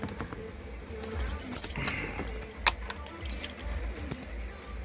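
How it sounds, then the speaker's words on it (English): Car keys are pulled off a magnet and jangle in the hand with a few bright metallic rattles and one or two sharper clinks, close up over a quiet background. "just grab my key, which is stuck to my magnet"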